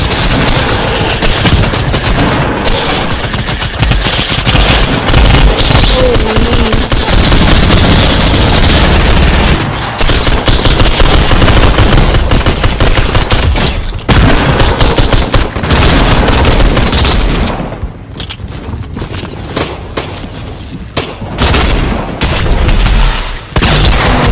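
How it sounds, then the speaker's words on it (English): Dense, continuous gunfire and booms from many players in Fortnite Battle Royale during the Doomsday Device live event, loud and sustained with bursts of automatic fire, briefly thinning near the end. "Oh, people are shooting each other?"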